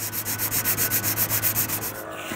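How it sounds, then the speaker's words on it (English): Fine sandpaper rubbed by hand over the wood of a china cabinet, about a dozen steady back-and-forth strokes in an even rhythm, close and loud with no talking. "we're just gonna use some fine sandpaper and clear this"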